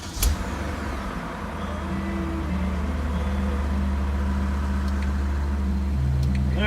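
BMW E39 M5 engine on a lift after muffler replacement, a sharp start-up burst then a steady low idle rumble that holds and grows slightly louder, close by.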